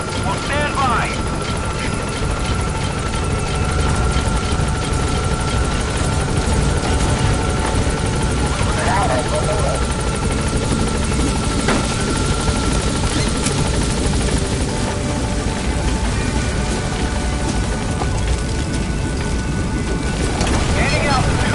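A helicopter lands at a landing zone in Metal Gear Solid V: The Phantom Pain, its rotors thumping in a loud, steady roar with wind-like rush throughout, while a radio voice talks over it.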